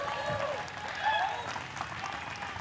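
A crowd at a disc golf tournament applauds a birdie with steady clapping and cheering that carries on throughout, a little distant, while a commentator talks over it.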